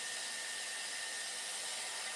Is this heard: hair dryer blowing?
yes